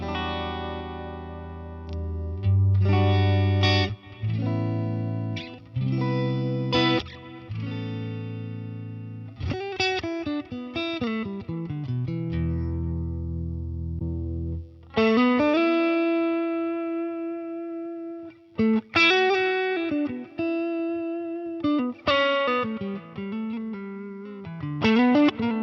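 An electric guitar played through a Line 6 Helix modeler with effects rings out in distorted chords and melodic phrases, with short pauses between passages and sustained notes blooming with modulation and echo.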